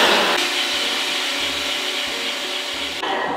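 A sausage-making machine runs steadily, stuffing spiced meat into casing with a continuous motor whir and a faint rubbing grind, then cuts off abruptly near the end.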